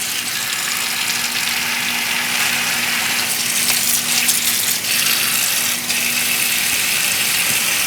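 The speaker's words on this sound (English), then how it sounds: "And fill up the bowl with water." Tap water runs into a deep bowl being filled to wash parsley, a loud, steady gushing splash that continues throughout with slight shifts in tone as the bowl fills.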